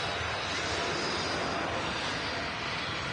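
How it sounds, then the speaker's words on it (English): A TUI Boeing 787 Dreamliner jet rolls down runway 23 left at Manchester Airport, a steady, continuous broadband engine roar filling the air without breaks, moderately loud and unaccompanied by talk. "As the TUI Dreamliner rolls on 23 left off to Mexico"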